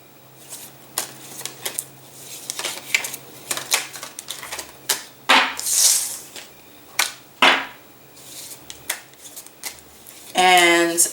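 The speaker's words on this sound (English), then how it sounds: "I pulled out the Ansetta tarot cards" Tarot cards are handled and shuffled close by, with crisp flicking snaps and papery riffles in uneven bursts, ending with a longer shuffle.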